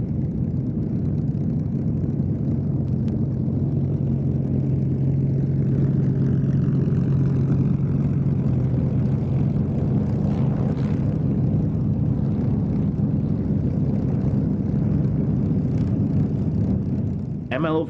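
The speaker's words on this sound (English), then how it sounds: "and here Keith Skilling taxis the Fighter Collection's Mark 9" A Fighter Collection Mark 9 warplane taxis at an airfield, its engine giving a steady low drone throughout, with a commentator talking over the engine noise.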